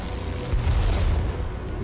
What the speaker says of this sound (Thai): มาแล้วฮะเครื่องบินทิ้งระเบิด